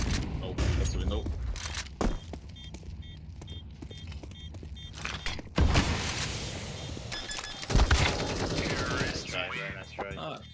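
Counter-Strike gunfire while testing a map, with bursts and single shots that come and go over game ambience and mechanical noise, loudest near the middle and end, and voices talking.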